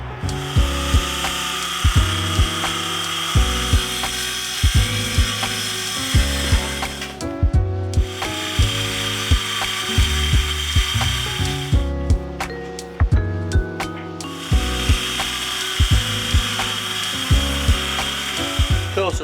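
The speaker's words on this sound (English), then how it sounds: "Just to cut these off and then finish grinding up and painting everything." Metal trailer parts being cut to size with a power tool, a loud rasping cut in three long bursts separated by short pauses, with repeated rhythmic scraping strokes and no talk.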